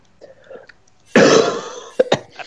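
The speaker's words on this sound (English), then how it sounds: "My fucking coughing sounds like an old man" A sick gamer's rough, deep cough erupts close to the mic, one long raspy burst followed by two short hacks, with quiet murmuring beforehand.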